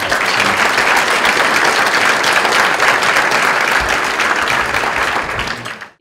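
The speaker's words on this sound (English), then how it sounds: "Let's give a round of applause for everybody." Loud, continuous applause from a summit audience, a thick wash of many hands clapping at once that holds steady before cutting off abruptly.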